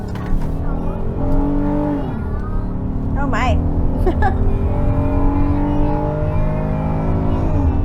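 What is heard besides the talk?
2025 Honda Odyssey V6 minivan accelerating to 70 mph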